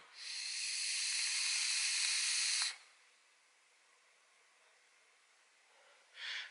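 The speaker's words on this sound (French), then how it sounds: "la vapeur est plus que correcte" A long, steady hiss of an e-cigarette running a 50/50 juice on a coil of about 0.94 ohm, lasting almost three seconds and then cutting off, followed by quiet and a short second puff of hiss at the end.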